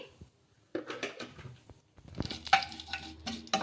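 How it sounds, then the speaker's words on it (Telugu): Sesame seeds and cumin fry in a pan with a light sizzle and a few soft scraping stirs and clinks, quiet and close. "ఇలా ఈ విధంగా నువ్వులు జీలకర్ర కొంచెం ఫ్రై చేసేసుకుందాము"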